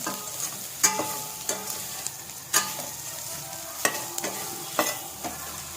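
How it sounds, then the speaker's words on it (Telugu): Soya chunks (meal maker) frying in a pan with ginger garlic paste, a steady sizzle punctuated by sharp scraping knocks of a spoon stirring against the pan. "మిల్ మేకర్ ఫ్రై అవ్వనిద్దాం కొంచెం సేపు"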